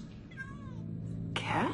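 A cat meows in the video game Minecraft: Story Mode, a short wavering call heard close, followed by a brighter burst of game sound.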